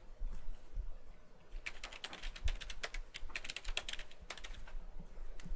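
Typing on a computer keyboard while a new password is entered, a quick run of light clicky keystrokes that grows denser midway, close and fairly quiet, with no talking.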